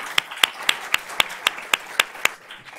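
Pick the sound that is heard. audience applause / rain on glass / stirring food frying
audience applause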